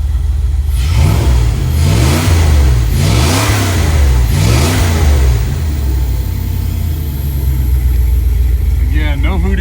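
A car engine with a new pump and properly aligned pulley revs up and settles about four times in a row, loud and close, with no squeak or chirp, and a brief voice near the end.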